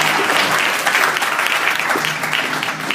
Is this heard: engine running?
no